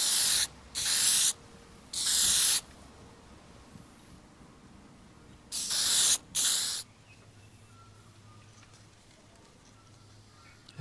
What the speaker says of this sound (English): here goes the acrylic clear on that chassis, just to keep it nice and shiny